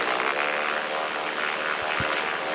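A propeller airplane engine in the video game Chicken Gun drones steadily and loudly, a continuous close buzzing hum that holds without pause.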